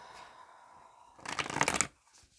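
A tarot card deck gets a quick close shuffle, a short burst of papery riffling that rises after a quiet room hum and then stops abruptly.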